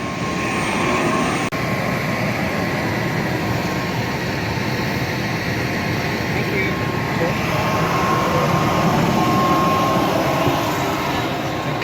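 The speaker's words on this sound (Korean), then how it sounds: "말라위로 가는 비행기입니다." Steady, loud jet engine roar fills the cabin of a passenger airplane on a flight from Nairobi, Kenya to Malawi, a continuous broadband drone with a faint tonal hum throughout.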